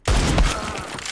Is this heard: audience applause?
no